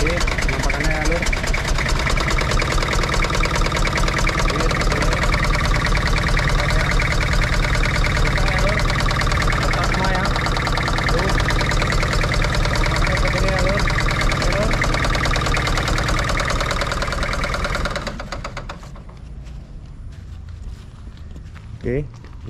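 A Toyota Kijang Capsule LGX with a 2L diesel engine idles roughly with a shaking, uneven throb and a suspected compression leak. It runs loud and close for about eighteen seconds, then drops away, and footsteps and movement sound around it.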